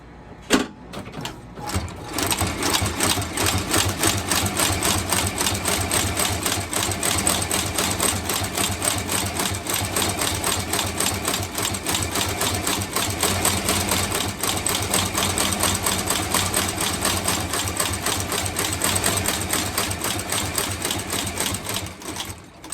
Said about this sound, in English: then stitch it all the way around the shoe